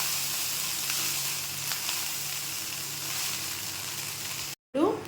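Chicken fried rice stir-frying over a high flame, a steady loud sizzle with occasional stirring scrapes, briefly cut to silence near the end before the frying resumes.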